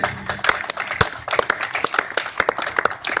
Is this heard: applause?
yes